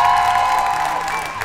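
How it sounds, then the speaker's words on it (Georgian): Studio audience applauding warmly as the Ranina team takes the stage on a Georgian TV show, a steady loud wash of clapping with some crowd cheering, sustained throughout with music tones underneath. "მხურვალე აპლოდისმენტებით შევხვდეთ რანინას გუნდი."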